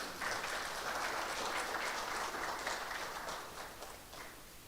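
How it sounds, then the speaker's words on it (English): An audience at a hustings for MEP candidates applauds, a dense, steady burst of clapping from a room of people that tapers slightly toward the end, with no voices over it. "a round of applause for our candidates"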